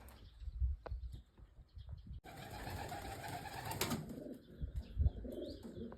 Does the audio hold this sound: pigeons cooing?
yes